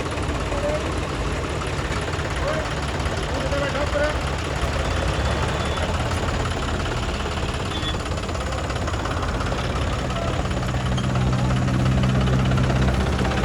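A 4x4 John Deere tractor hauling a 16-foot sugarcane trolley runs with a steady, loud, knocking engine drone that never lets up, with voices mixed in underneath.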